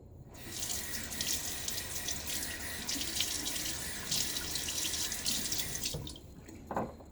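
Tap water runs steadily into a sink while shaving lather is rinsed off, a continuous close splashing stream for about six seconds that then cuts off, followed by a few drips and small handling sounds.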